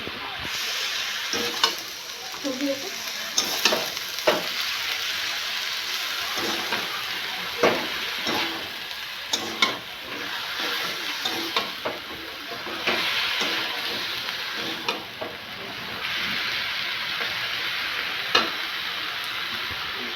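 Boiled greens with salt and turmeric cooking down in a pan as their water reduces, a steady sizzling hiss broken by repeated scrapes and stirring clatters, close and fairly loud.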